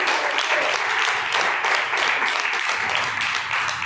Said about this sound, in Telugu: ఒకసారి గట్టిగా చప్పట్లు కొట్టి దేవుడు